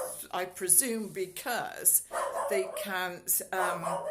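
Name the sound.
dog barking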